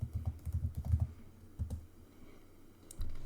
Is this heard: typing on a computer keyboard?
yes